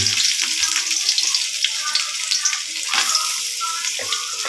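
Garlic sautés in a hot pan for a Filipino dish, giving a loud, dense sizzle close up, with light stirring clatter underneath.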